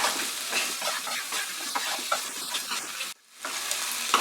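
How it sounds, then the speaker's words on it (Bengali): Potato pieces frying in a pan over medium heat, giving a steady close sizzle with stirring scrapes throughout and a brief quiet break near the end before the frying noise returns. "মাঝারি আঁচে রেখে এবার আমি আলুটাকে ফ্রাই করব।"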